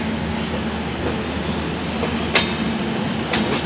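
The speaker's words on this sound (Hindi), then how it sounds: "और ये है जनसाधारण एक्सप्रेस जो हमसे पहले आई है, बहुत पहले।" Jan Sadharan Express standing at an Indian railway station, a continuous rumble of rail and platform noise with a few sharp metallic clanks and hisses, no voices.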